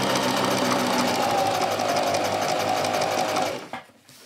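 A domestic sewing machine closes a seam on a pair of trousers, running as a fast, loud, even whirring stitch for several seconds before it slows and stops.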